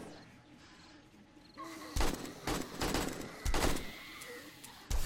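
Gunfire in 7 Days to Die during a Darkness Falls horde night, loud bursts of shots starting partway in, separated by short pauses, over a low game background with a faint voice.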